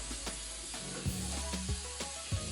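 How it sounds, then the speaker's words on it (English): A spray bottle gives several short, sharp hissing bursts at close range onto hair roots, spaced unevenly over a few seconds. "spray this on your roots all over the hair"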